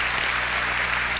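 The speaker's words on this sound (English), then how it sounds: "We like the applauding, so please continue that throughout the debate." Debate audience clapping, a brief dense burst of applause that stays level and loud for about a second, with no talk over it.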